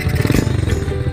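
Two motorcycles ride along the road on a road trip, a close, rumbling engine note with clattering texture in one short continuous burst.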